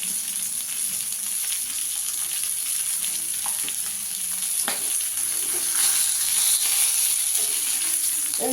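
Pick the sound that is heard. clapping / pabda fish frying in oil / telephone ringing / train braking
pabda fish frying in oil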